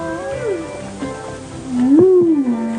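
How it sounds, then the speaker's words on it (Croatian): Long, low whale song with moaning calls that bend up and down in pitch, several drawn-out sweeps layered over a soft underwater rumble. "Kitova pesma, verujte!"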